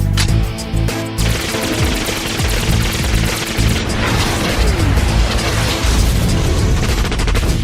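Cartoon weapons unleash a loud, continuous barrage of rapid machine-gun-style fire with booming bursts, dense and relentless throughout, as toy-like battle cars fight in an animated power battle.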